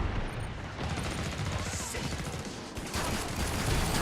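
Rapid video-game gunfire from a high-capacity weapon in Killing Floor 2, a dense continuous stream of shots with steady loudness and a brief dip near the end, with faint speech underneath.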